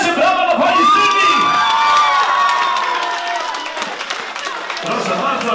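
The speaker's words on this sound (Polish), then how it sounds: "Szanowni państwo, dajcie brawo do pani Sylwii!" A crowd at a live performance by a Białystok band cheers, whoops and applauds loudly for a female singer. The roar stays steady, then thins slightly toward the end.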